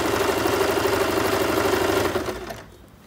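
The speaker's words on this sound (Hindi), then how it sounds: "अब हम इसकी स्टिच करेंगे।" A sewing machine runs steadily, stitching fabric laid over elastic for palazzo pants, its loud, fast mechanical whirr holding for about two and a half seconds before slowing and stopping.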